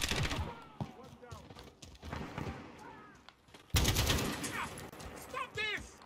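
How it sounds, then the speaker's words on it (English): AK rifle gunfire in Call of Duty: Modern Warfare, scattered bursts of sharp cracks followed by a loud volley, heard close under excited voices that talk throughout. "Oh, it's an AK."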